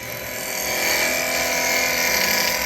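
A carbide woodturning tool cuts into a spinning workpiece on a wood lathe, giving a steady, loud, bright scraping whine that swells slightly and holds for the whole stretch, with no talking.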